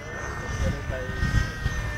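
A Hirobo SDX radio-controlled helicopter engine runs on a very windy day, a steady droning whine over heavy, buffeting wind rumble, with voices talking in the background.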